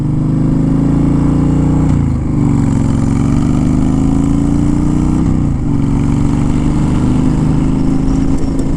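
A Honda Fury cruiser motorcycle fitted with a Cobra PowrPro Black fuel tuner runs loud and close, holding a deep, steady engine rumble with two brief revs that dip and swell in pitch.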